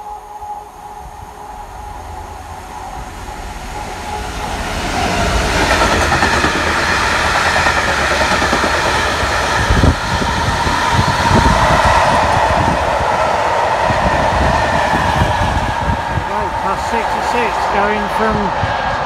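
Oil train hauled by a class 66 diesel locomotive passing through Market Harborough station, a loud, continuous rumble with the clatter of wagons over the rails that builds and stays close, with voices heard over it.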